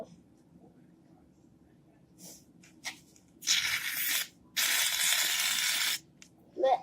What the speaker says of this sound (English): it's the shaving cream